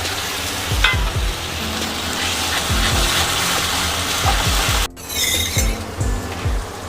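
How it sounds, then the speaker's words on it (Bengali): Masala paste sizzling loudly in a pan on the stove for Bengali chicken curry, with a splash of water added partway, a brief dip before a fresh burst of hissing and steady stirring scrapes throughout. "আমি সামান্য পরিমাণ জল এখানে অ্যাড করলাম"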